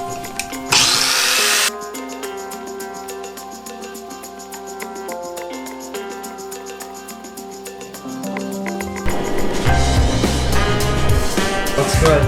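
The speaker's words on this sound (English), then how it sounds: "I might cut a little more off of this to get the length that I want" A power tool cutting the exhaust pipe of a Honda CB500 café racer build, a loud, close, continuous whining drone with shifting pitch, a harsh hissing burst early on and rougher grinding toward the end.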